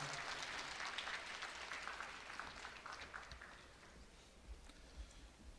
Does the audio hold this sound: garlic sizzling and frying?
no